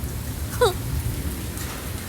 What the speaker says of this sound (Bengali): বৃষ্টিটা কি সুন্দর বৃষ্টি হচ্ছে, রহমতের বৃষ্টি